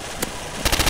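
Gunfire from a Counter-Strike: Source zombie escape match, one sharp shot followed after a short gap by a rapid, loud machine-gun burst of closely spaced rounds.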